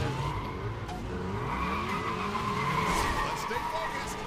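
Race car tires skidding and squealing in LEGO 2K Drive, with a steady engine drone throughout and people talking over it.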